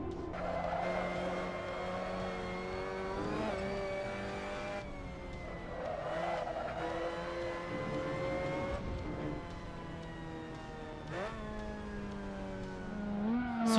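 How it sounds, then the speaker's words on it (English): Simulated Mazda MX-5 Cup race car lapping the Nordschleife in Assetto Corsa, its engine note rising and falling steadily through gear changes with brief tire squeal, loud and continuous throughout. "that was a lap around the Nordschleife with the Mazda MX-5 Cup"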